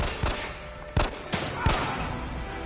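Gunfire in the video game The Evil Within 2, four separate sharp shots spaced irregularly over a rumbling game background, fairly loud.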